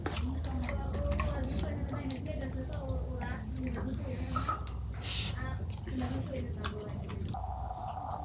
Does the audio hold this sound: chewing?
yes